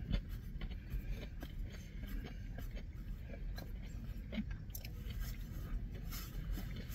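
Someone bites into and chews a large onion ring from Steak 'n Shake, giving soft, close, quiet crunching and mouth sounds with no talking.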